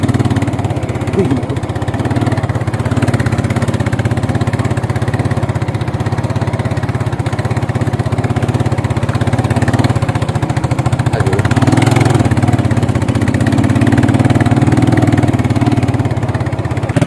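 A motorcycle engine runs steadily with a low, throbbing rumble, idling and revving slightly, close by and continuous throughout.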